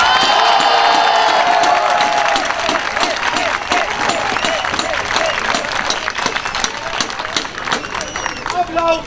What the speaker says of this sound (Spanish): ¡Aplausos para el caballero oscuro!